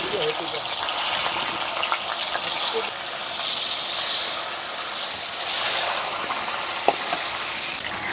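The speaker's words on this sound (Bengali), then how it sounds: "তেলটা গরমও হয়ে গেছে। তো বন্ধুরা, আর মাছটা কিন্তু ফোটে একটু সাবধানে ভেজে নিতে হবে।" Aar fish frying in hot oil in a village kitchen, a steady close sizzle and hiss throughout, with occasional small pops.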